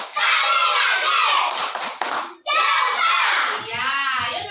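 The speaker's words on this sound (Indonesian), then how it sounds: "ayo kita kasih tepuk jempol dulu Pak Obi." A class of children at school claps together in a quick, loud burst mixed with excited shouting and chatter, filling the room before it settles.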